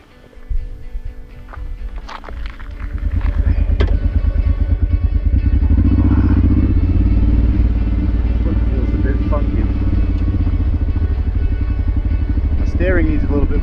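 A motorcycle pulls away and rides off over rocky ground in Bolivia, its engine rising into a loud, steady drone close by after some clattering handling noises at the start.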